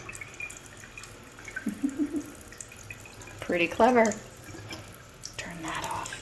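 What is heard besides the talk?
water flowing from push-down tap into outdoor sink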